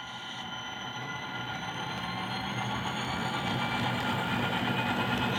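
A Bowser GMD SD40-2F HO scale model diesel locomotive with an ESU LokSound decoder rumbles with a steady engine drone that slowly builds in loudness as it gets moving, with no talking.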